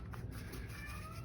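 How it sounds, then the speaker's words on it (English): A pet cat gives a faint, drawn-out meow in a quiet room, a single soft call lasting about a second under low background hum. "That's my cat."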